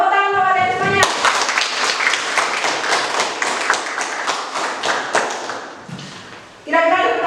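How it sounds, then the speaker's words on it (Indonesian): A classroom of students claps for one another, with sharp, close, somewhat uneven taps between a teacher's speech at the start and her voice returning at the end. "Tepuk tangan kepada kalian semuanya."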